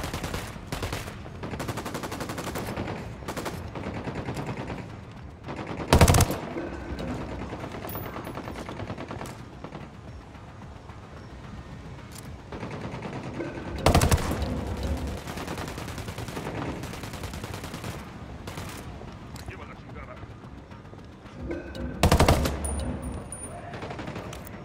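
Automatic gunfire in the video game Ghost Recon Wildlands, with repeated bursts of rapid shots and several louder sharp reports standing out over a continuous layer of game sound.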